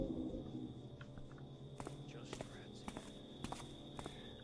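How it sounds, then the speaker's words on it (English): Footsteps on asphalt in the stealth game Thief 2: The Metal Age, a run of soft, fairly loud steps with small clicks against a steady ambient hum, faint breathy voices now and then. "The footsteps are kind of loud, but we're going to have that either way, because it's all asphalt."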